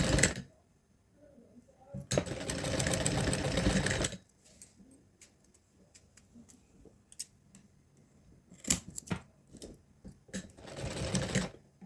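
A sewing machine stitches a small doll dress in two loud, close bursts of rapid whirring with a quiet pause between them. Softer ticks and handling sounds fill the gap.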